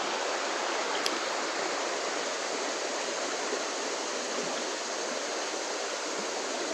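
Small waterfall in a creek gives a steady, even broadband rush of falling water, close and continuous throughout, with one faint brief tick near the start.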